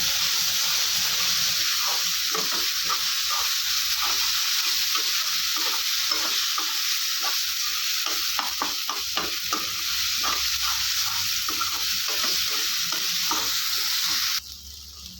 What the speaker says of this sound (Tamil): நல்லா பச்சை வாசனை போகிற வரைக்கும் வதக்கிக்கோங்க